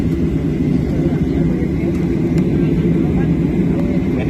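Loud, continuous low rumble of an airplane landing at Montego Bay airport, heard from inside the cabin as a steady roar with no distinct breaks.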